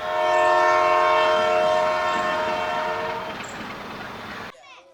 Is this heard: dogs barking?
no